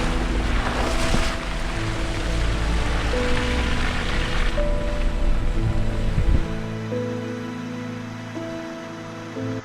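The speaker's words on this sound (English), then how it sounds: "And it's raining" Rain falls steadily at a roadside campsite in British Columbia, Canada, a dense hiss heard alongside a low idling hum that drops away partway through, leaving quieter tonal background.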